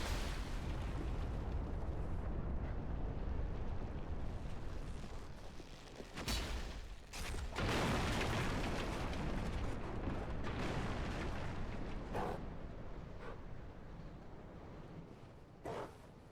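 A bridge collapsing in Dark Souls 3, loud rumbling destruction with repeated heavy booms and crashing bursts that swell and fade over a long, continuous roar.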